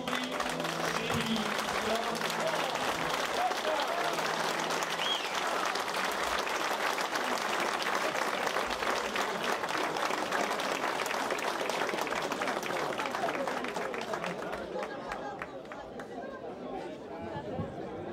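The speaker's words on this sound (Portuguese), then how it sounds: "essas palmas são em louvor da coroa do Rio." Dense audience applause at a Portuguese cantoria gathering in Attleboro, a steady wash of many clapping hands with crowd chatter mixed in, holding loud and even before thinning and fading slightly near the end.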